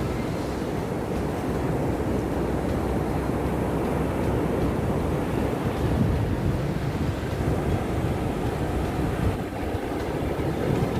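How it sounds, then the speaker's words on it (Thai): Strong wind buffets the microphone over a continuous roar of sea waves on a Spanish beach, loud and constant throughout with no voices. "ลมแรงเชียวค่ะ"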